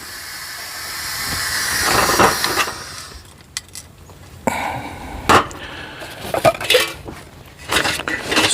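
A camping stove burns with a steady broadband hiss at a low flame setting during car camping. The hiss fades after a few seconds and gives way to scattered metallic clinks and clatter of cookware nearby.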